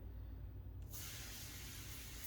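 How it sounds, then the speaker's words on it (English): After a brief quiet moment, a steady hissing spray of SONAX CC36 ceramic coating from a bottle starts and holds for over a second, close and even, over a low background hum. "You spray a generous amount onto it, not loads, but enough."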